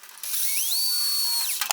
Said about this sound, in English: Now start slow to start the hole. Hey, the drill tends to want to walk.